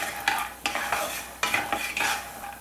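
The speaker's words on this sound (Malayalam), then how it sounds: "ഇപ്പോൾ ഉണ്ടോ നമ്മുടെ കപ്പലണ്ടി നന്നായിട്ട് റോസ്റ്റ് ആയിട്ട് വന്നിട്ടുണ്ട്" Peanuts roast in a pan while being stirred, a busy dry rattling and scraping with soft sizzling, close and continuous.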